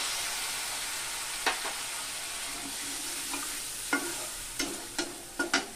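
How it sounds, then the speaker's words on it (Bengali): Spice paste for a vegetarian soybean curry sizzles steadily in oil while a spoon scrapes and stirs it around the pan, with several sharp clicks and scrapes standing out over the continuous frying hiss. "তো মশলাটাকে একটু কষিয়ে নিতে হবে।"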